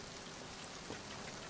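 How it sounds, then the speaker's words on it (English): Steady, quiet rainfall in Metal Gear Solid 2 HD, a soft even hiss with a couple of faint high electronic blips, no voices. "I need to be careful staying out in the rain too long"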